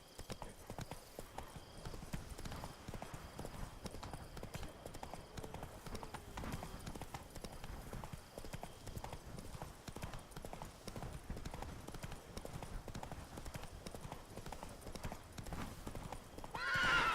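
A horse gallops with steady, rapid clip-clop hoofbeats and neighs in The Witcher 3 video game. The hooves drum continuously at moderate loudness and end in a brief louder swell.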